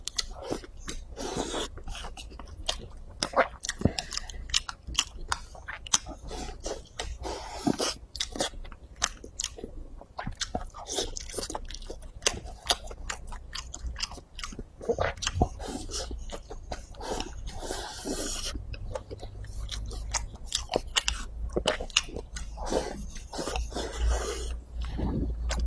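Braised beef brisket with potatoes is eaten close to the mic, with steady wet chewing and occasional biting crunches repeating throughout.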